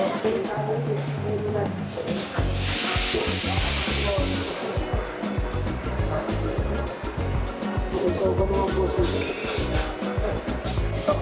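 Yaki udon sizzling and steaming on a hot Japanese buffet griddle, a loud continuous hiss with clattering utensils and a busy restaurant hum throughout, close by.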